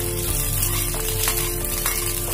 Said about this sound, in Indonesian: Tumis sampai harum, baru kemudian kita masukkan udangnya tadi.